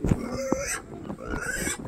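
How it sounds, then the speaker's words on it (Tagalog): Pigs on a farm grunt and oink in a few short, close snorts against low background noise, with no one talking. "Ang daming baboy, baboy."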